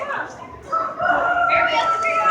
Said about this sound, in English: Little rooster.